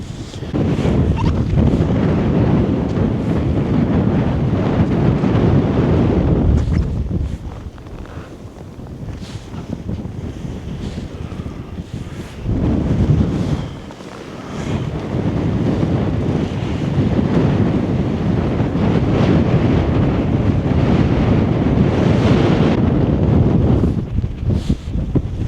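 Strong Arctic blizzard wind roars loudly and continuously against the microphone, easing briefly twice before surging back, with no voices.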